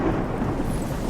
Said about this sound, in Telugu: వర్షం పడేలా ఉంది బ్రో